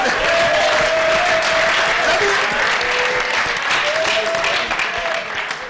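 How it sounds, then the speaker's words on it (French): Sustained audience applause at a live comedy stage show, a dense steady clatter of many hands filling the whole stretch, with a faint voice or tone running underneath. "Applaudissez pour ça."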